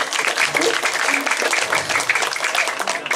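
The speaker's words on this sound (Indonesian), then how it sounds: "tepuk tangan sekali lagi Rizkan Gongnya" An audience claps steadily through the whole moment at a Balinese comedy show, part of a Calonarang performance. The applause is close and loud, with voices mixed into it.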